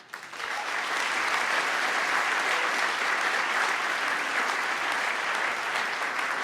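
Audience applause at the Amherst College Convocation 2024 fills the hall, a dense, steady roar of many hands that swells within the first second and holds at full strength without a break.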